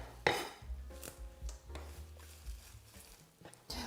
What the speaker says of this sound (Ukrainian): Так, все, нарізаю зелень